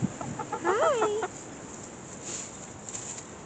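Backyard pet hens raised for fresh eggs give a short burst of close, loud clucking with rising and falling calls. Quiet outdoor background follows, with faint distant birdsong.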